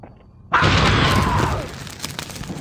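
A barrel shot in Alien Versus Predator bursts in a single sudden loud blast after a quiet moment, its roar decaying over about two seconds with crackling debris.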